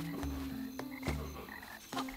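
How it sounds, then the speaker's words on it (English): Chorus of croaking frogs in a night swamp in the video game The Plucky Squire, overlapping rhythmic croaks over a steady humming musical backdrop, no talking. "Check out those singing frogs."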